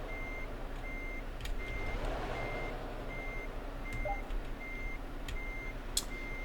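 Reversing beeps from a truck backing its trailer in Euro Truck Simulator 2, a steady evenly spaced series of beeps over a constant low engine drone, with no talk.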